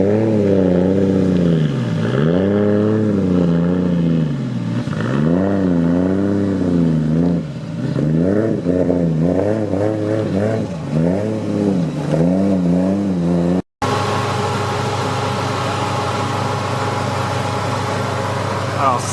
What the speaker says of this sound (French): Alors ça c'est une Nissan Z et c'est celle qui marche le mieux pour l'instant